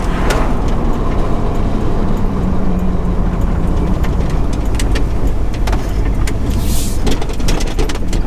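A car on a short, bumpy drive to some trailers gives a loud continuous interior rumble of engine and road noise, with scattered rattles and knocks from the cabin.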